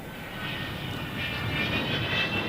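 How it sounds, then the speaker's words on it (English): Four-engined jet bombers with rounded delta wings take off together, their engines making a steady distant roar that swells slightly as it goes on, with no voices. "All four engines of each aircraft are started simultaneously, and well within 2 minutes of the order,"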